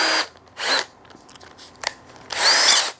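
Power drill spinning a homemade resin stirrer in short bursts: three loud whirring runs, the last the longest, separated by near-silent pauses.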